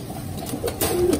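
A pigeon, a black desi bird, coos in a cage close by, giving a few soft low throaty calls in quick succession.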